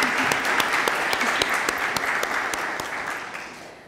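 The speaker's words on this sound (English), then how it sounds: "So I want to give a big round of applause for all the center directors." An audience at an Optimist Club youth program event gives the center directors a steady round of clapping that is thick and even throughout and eases off slightly toward the end.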